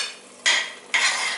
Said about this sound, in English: So you can just use a spoon, just add some